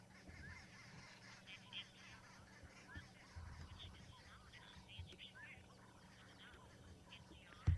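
Egyptian geese honk during a sunrise safari broadcast, with soft, distant, scattered calls under quiet talk and ambient morning sounds, followed by a short louder thump near the end.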